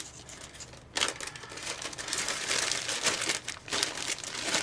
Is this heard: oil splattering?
no